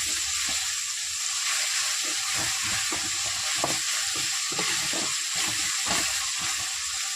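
Crushed garlic fries in oil alongside dried anchovies, giving an even, close sizzle with a soft bubbling crackle that holds steady throughout.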